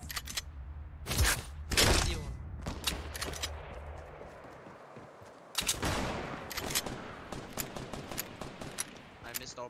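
Video game gunfire arrives in loud clustered bursts, including a strong volley near the start and another a few seconds later, with quieter game sounds in between.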